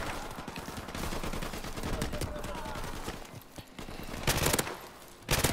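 Rapid gunfire in Call of Duty: Modern Warfare Remastered, dense bursts of automatic shots rattling almost continuously, with louder nearby blasts toward the end and a voice talking over the action.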